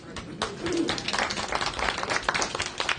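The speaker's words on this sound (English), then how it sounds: "Let's give a round of applause." Attendees at a care management session break into a round of applause: dense overlapping clapping that starts after a brief lull and continues steadily, moderately loud.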